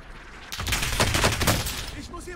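A rapid burst of gunfire in a shooter video game, several shots fired in quick succession as a loud, close volley that fades out after about two seconds.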